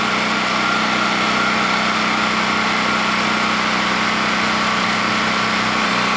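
A portable generator, bolted down beside a Frigidaire window air conditioner, runs after starting with a steady, loud, close engine drone that holds constant without pause and with no talking.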